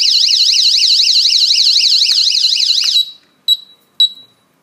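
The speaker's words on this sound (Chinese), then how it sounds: "当报警器与桌台被强行分离时，报警器立刻报警。" Anti-theft alarm on a camera security display stand, sounding a loud electronic siren that warbles steadily for about three seconds, then cuts off and gives two short chirps.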